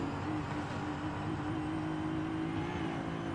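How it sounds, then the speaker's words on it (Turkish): A car engine in the Forza Horizon video game drones steadily from the cockpit view, a constant mid-level hum that holds nearly flat throughout with no speech. "Arabanın sesi ne kadar içten geliyor değil mi?"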